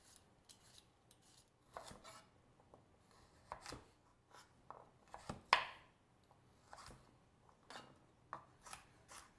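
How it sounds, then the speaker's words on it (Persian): Carrots, potatoes and tomatoes being chopped with a knife on a board for lentil soup, a run of close, sharp irregular cuts with short pauses between strokes, no talking. "بقیه موارد که میشه هویج و سیب زمینی و گوجه رو مثل من این شکلی که دارید میبینید خرد کنید"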